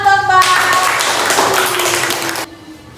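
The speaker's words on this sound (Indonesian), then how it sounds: "Tepuk tangan untuk Mbak." Clapping from a classroom of students, a burst of many hands patting quickly together for about two seconds, fairly close, with a steady electronic tone running underneath before the clapping stops.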